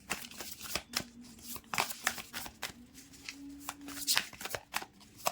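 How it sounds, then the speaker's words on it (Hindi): Playing cards shuffled by hand in repeated quick riffles and flicks, close and crisp, with a rhythmic series of short bursts; a faint voice murmurs in the background. "stay positive till I shuffle the cards"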